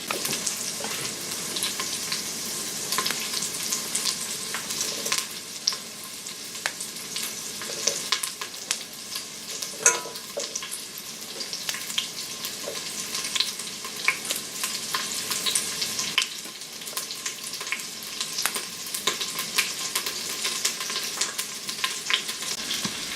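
Bacon fat and onion sizzling in an Instant Pot on the saute setting, a continuous crackling hiss with scattered pops and light stirring scrapes throughout, close and unbroken by speech.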